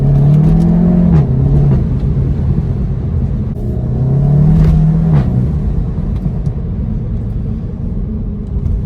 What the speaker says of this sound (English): And this is the standard exhaust. It's quite impressive, really, for a standard exhaust.